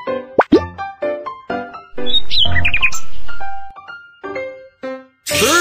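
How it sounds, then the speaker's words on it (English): A bird chirps in a kids' cartoon hearing test, a loud tweeting call with quick bright notes mixed with plopping sounds and light background music. "Bird!"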